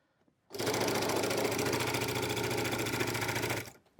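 Sewing machine running a straight seam across a fabric pocket at a normal stitch length, one continuous fast rhythmic whirring burst of about three seconds, close and loud, starting and stopping abruptly.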